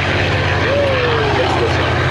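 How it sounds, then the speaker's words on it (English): Airplanes at an air show flying overhead make a steady, loud engine roar that fills the whole span, with a faint whistling tone drifting through and a voice talking underneath. "we'll have some of the airplanes going over 600 miles an hour"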